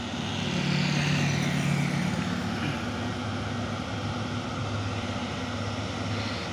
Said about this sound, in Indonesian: ini juga ada satu unit Hino 500 terpantau ganteng saat melewati tanjakan Bukit Korok